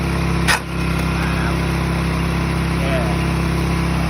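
An old Japanese small diesel tiller engine runs steadily, a constant low hum and rattle close by with one brief knock near the start, and no talk over it.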